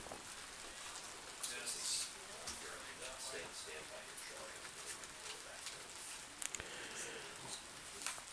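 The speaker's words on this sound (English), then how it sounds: "As the rain starts to pick up again." Rain falls at an outdoor baseball all-star game, a faint, even patter and hiss heard from some distance, with occasional soft thumps and quiet crowd sounds beneath.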